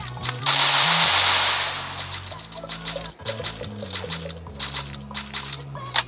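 Sustained bursts of rapid automatic fire from a SCAR rifle in a video game battle, loud and close, with gaps between volleys and further shots and noise from the game continuing throughout.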